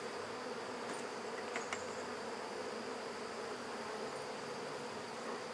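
Honey bees buzz steadily around an open hive during mite treatment with confectioner's sugar, a continuous, fairly faint hum with no talking.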